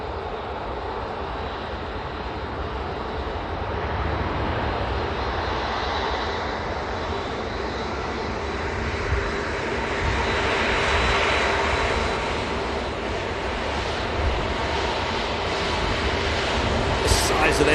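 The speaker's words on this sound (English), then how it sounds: "We've got the Cathay Pacific about to roll." A Cathay Pacific airliner rolls for takeoff at Manchester Airport, its engines producing a continuous loud roar that builds gradually and stays steady over the whole stretch, heard from a distance outdoors.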